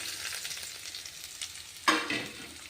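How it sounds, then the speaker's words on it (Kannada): Chopped onions frying in oil until golden, a close steady sizzle with a sudden louder burst of crackling near the end as they are stirred. "ನಾವು ಈರುಳ್ಳಿ ಹಾಕೋಣ. ಗೋಲ್ಡನ್ ಕಲರ್ ಬರೋವರೆಗೂ ಫ್ರೈ ಆದವು."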